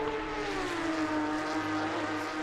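Race car engines drone in a steady, sustained whine during a motorsport practice session, the sound continuous and fairly loud, with no talk.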